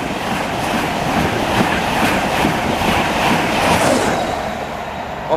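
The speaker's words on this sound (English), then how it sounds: "Now passing through is a Virgin Trains East Coast Class 91." Close and loud, a Virgin Trains East Coast Class 91 electric train passes through Stevenage station on the East Coast Main Line, its steady roar of wheels and rail noise carrying a light clatter before easing slightly at the end.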